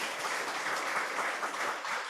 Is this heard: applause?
yes